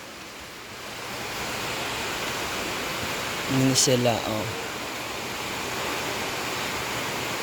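A river rushes in a steady, broad wash of flowing water, constant and fairly close, with a brief spoken exchange partway through.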